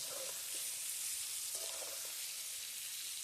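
Potatoes coated in turmeric fry in a pan on a rooftop stove, giving a faint, steady hiss of sizzling oil with no voices over it.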